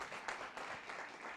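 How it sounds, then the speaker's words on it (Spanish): Church congregation clapping in a brief burst of applause, moderately distant and filling the room, with no voices over it. "denle un buen aplauso a Dios"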